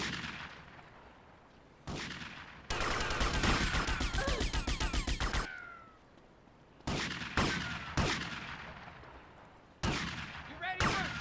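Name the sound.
shotgun fired at close range in a video game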